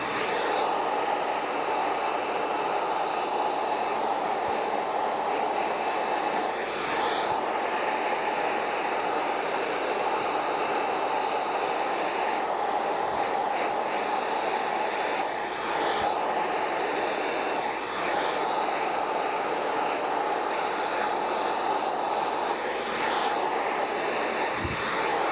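A hair dryer blows steadily and loudly through a salon blow-dry of curly hair, a constant airy roar running without break from start to finish, with no voices over it.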